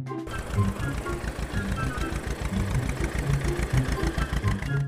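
The engine of a mini chocolate toy tractor in a cartoon chugs along with a steady, rhythmic low thumping, loud and continuous throughout.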